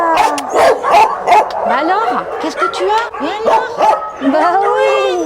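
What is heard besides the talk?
shelter dog barking behind the gate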